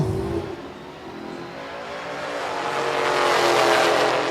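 A drag racing car launches hard at a Hot Rod Drag Week event at Cordova International Raceway, its engine roaring and building in loud, rising revs as it accelerates away with the front wheels lifting.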